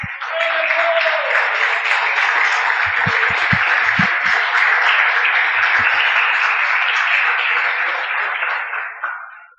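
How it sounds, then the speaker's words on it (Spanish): Sustained applause from a church congregation during a sermon on loving those around you, broad and steady for nearly ten seconds, fading at the end, with a brief tonal ping and a few low thumps partway through. "dése un aplauso"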